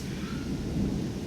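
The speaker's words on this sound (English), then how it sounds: "it's raining, lightning, and storm" Thunderstorm with a low rumble of thunder and steady rain, a brief continuous wash of sound with no voices.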